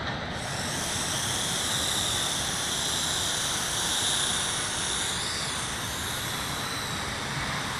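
Syma X8C Venture quadcopter drone with its stock camera in flight, giving a steady, continuous broadband whir and hiss of spinning rotors that holds close and even throughout with no talking.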